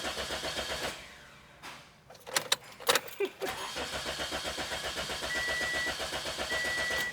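Toyota Corolla engine cranking without catching: a rhythmic starter chug, a pause with a few sharp key and clicking sounds, then another long, steady run of cranking pulses, close up and without talk.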